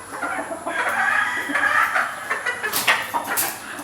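Barbie Black gamefowl, an all-black breed, clucking close and loud in a continuous run of clucks and crowing-like calls, with other birds faintly around.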